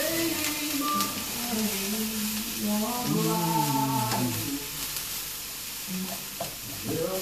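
Onions browning in a frying pan for beef stroganoff, a continuous sizzle with stirring scrapes, joined partway by a voice talking over it.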